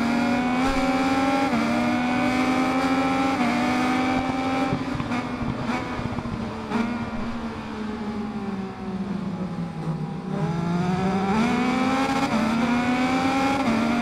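A Triumph motorcycle engine in the racing game RIDE 5 revs loud and continuous, its pitch rising and falling through gear changes with no pauses.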